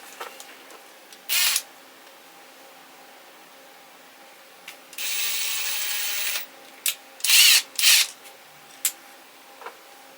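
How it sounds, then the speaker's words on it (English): A power drill whirs in several separate bursts: a short one, then a longer steady run, then a cluster of quick pulses. The bursts are close and fairly loud, with quiet gaps between them. "And I just had my other drill out."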